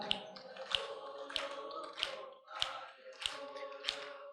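Rhythmic clapping keeps a steady beat during devotional chanting, one clap about every 0.6 seconds, crisp and fairly close, under a faint chanted melody.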